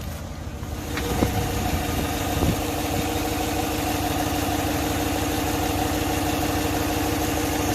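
Car engine idling with a misfire, its number 5 cylinder disabled by a pulled plug wire, giving a steady, uneven rumble close by with a couple of faint knocks early on and no talking.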